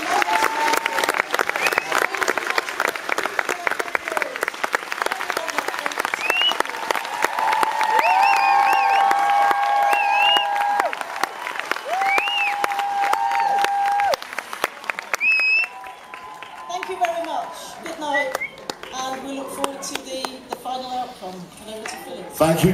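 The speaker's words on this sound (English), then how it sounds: "Big round of applause for our chief executive, Judy Kilcullen" Sustained audience applause and cheering at a glee club competition final in a large hall, steady and loud throughout with whoops and shouts, and a voice speaking over the crowd toward the end.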